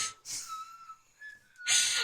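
A person whistles a few short, thin tones close by, framed by sharp breathy hisses of air at the start and end.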